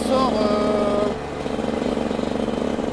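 A 50cc two-stroke motorcycle engine drones steadily in fifth gear at roughly 50 km/h, loud and close, with a voice briefly heard over it near the start.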